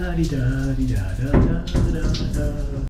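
Shower water runs steadily in a small cabin bathroom aboard a 2GO passenger ferry travelling from Manila to Palawan, a continuous hiss and splash that stays close and fairly loud, with a voice talking over it.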